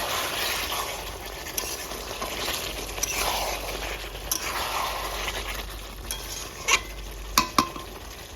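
Chicken and potato pieces stirred in a pan for a village-style curry, a steady sizzle of frying under a scraping spoon, with a few sharp clinks of utensil against the pan near the end.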